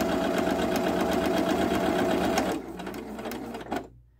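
A Viking Jade 20 sewing machine stitches steadily at a lengthened stitch setting, a loud continuous rapid mechanical whir close by that slows and fades after a few seconds, ending in a brief clunk before quiet.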